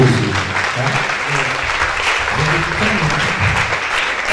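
Loud, sustained applause from a church congregation, dense clapping with a voice speaking over it throughout.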